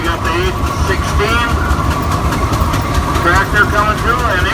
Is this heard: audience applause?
no